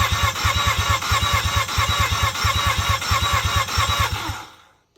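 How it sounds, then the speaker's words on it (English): A Mazda rotary engine cranks over on the starter during a compression test, loud rapid pulsing in even groups of beats, then winding down and stopping near the end. "I can start cranking this engine."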